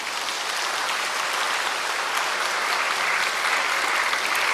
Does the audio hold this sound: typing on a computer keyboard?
no